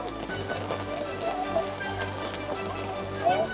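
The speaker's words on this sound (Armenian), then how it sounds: "Անգամ անձրևը մեզ չի խանգարում" Steady rain falls on a street in Rome, a broad even hiss of drops on hard surfaces continuing throughout, with faint scattered background sounds mixed in.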